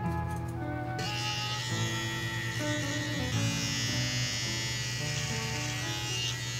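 Electric hair clippers trimming a two-block haircut, removing hair from the underlayer: a steady close buzzing motor hum that runs throughout, shifting slightly in tone as the blades move through the hair.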